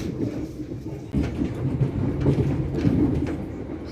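A train rolling through the countryside outside London toward Gatwick Airport, heard from inside the carriage as a steady low rumble and faint clatter that swells slightly partway through.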